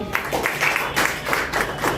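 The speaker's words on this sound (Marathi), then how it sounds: "तुमच्यासाठी जोरदार टाळ्या होऊन जाऊ द्या" An audience at a Marathi journalists' association event honouring reporters on Darpan Day gives a burst of clapping, heard as rhythmic rising and falling waves of hand claps from a gathered crowd in a hall.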